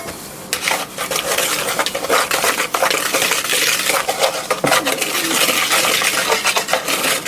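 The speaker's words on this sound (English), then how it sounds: "Get that mixed around there." A spoon scrapes and clinks around a bowl while ingredients such as celery salt and black pepper are mixed in for catfish and soft fried potatoes, a busy, continuous close-up stirring with light metallic taps throughout.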